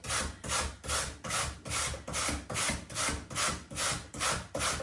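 Root vegetables grated by hand for fermenting make a rhythmic, raspy scraping, about eleven even back-and-forth strokes close up with no talk.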